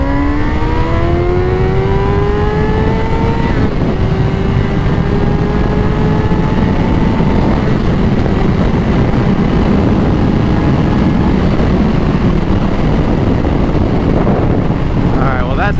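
Close, loud engine roar from a Honda CBR 600RR motorcycle on a scenic ride, heard from the rider's position, with rising revs through the gears under heavy wind rush that fills the whole stretch.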